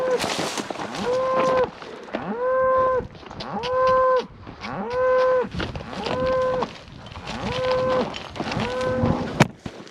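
Cattle on a slick, steep hillside moo loudly and repeatedly, roughly six long, drawn-out calls in steady succession, close by and with no talk.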